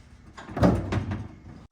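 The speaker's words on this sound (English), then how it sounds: "Okay, I'm gonna shut this door." A single dull thud of a 1977 Chevy C20 service truck door swinging shut, with a brief rattle after the impact, close by and alone.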